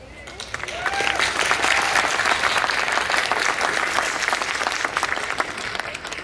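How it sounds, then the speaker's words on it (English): Crowd at a 2011 California State University Stanislaus graduation ceremony giving a round of applause, a dense, sustained roar of clapping that rises and stays steady throughout, heard from within the audience. "Give your institution a round of applause."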